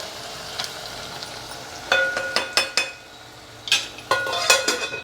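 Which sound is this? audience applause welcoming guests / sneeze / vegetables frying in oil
vegetables frying in oil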